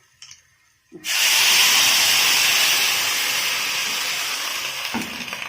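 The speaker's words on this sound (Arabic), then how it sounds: "هبدا احط الميه، انا يعني سخنت شويه" Hot water poured into a preheated cooking pot, bursting into a loud, sustained steam hiss that starts abruptly and holds steady for several seconds, with a faint clink near the end.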